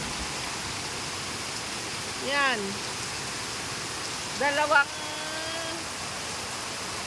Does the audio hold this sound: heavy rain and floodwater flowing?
yes